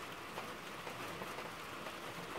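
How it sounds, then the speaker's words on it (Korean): Heavy rain falls outside in a steady, dense patter that stays even and continuous throughout, with no voices and no other distinct sounds. "근데 오늘의 이 빗소리는요,"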